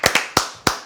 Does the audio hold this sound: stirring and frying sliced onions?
no